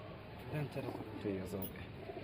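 Pigeons cooing softly at a pigeon farm, a few low murmuring coos in the background with talk nearby.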